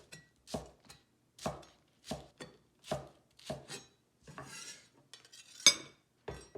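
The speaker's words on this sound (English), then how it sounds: "Now, slice the white part diagonally." Knife slicing the white part of green onions diagonally on a cutting board, a series of crisp, evenly spaced chops, close and clear, with a brief clatter near the end.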